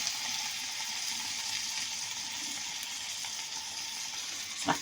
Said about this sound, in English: Let that sizzle for a little bit.